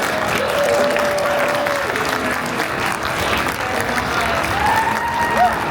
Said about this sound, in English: Please get a round of applause for Dave Crawford.